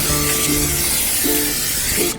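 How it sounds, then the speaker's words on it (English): Cooking spray hissing onto smoker grates before smoking pork belly for homemade applewood bacon, a steady close aerosol spray running the whole time with slight pulses. "I'm gonna go ahead and spray my grates here."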